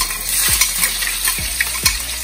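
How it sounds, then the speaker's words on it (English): Garlic and pepper fry in oil in a pan while Jamaican ackee and saltfish is being prepared, making a continuous close sizzle. Occasional stirring scrapes and taps come through it, and no one talks. "So first, I'm gonna put the garlic and the pepper in."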